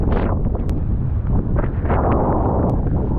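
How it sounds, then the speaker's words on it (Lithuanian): Strong wind buffets the microphone outdoors on Svalbard in the Arctic, a steady loud roaring rush with gusty swells throughout and no voices. "Nušniojo šiandien vėjas tai šakės, kaip tyčia"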